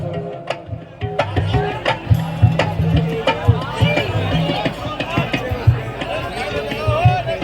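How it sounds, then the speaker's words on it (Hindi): A noisy crowd shouts and chatters on and around a stage at a crowded live devotional singing event, with a loud, dense, continuous babble of many voices and scattered sharp knocks throughout. "चिल्लम चिल्ली कर रखी है, मुझसे ज्यादा इनकी आवाज आ रही है"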